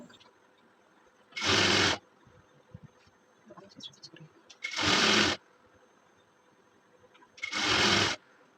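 A sewing machine top-stitches salwar fabric in three short, loud, even whirring runs separated by quiet pauses, close up, with soft handling noises in between.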